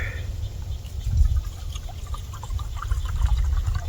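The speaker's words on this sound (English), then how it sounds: "let me get some water in it for you." Water pours and trickles into a container in an uneven splashing stream, close by, with a brief burst of louder gushing midway.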